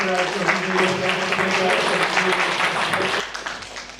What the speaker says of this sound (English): Big round of applause again, please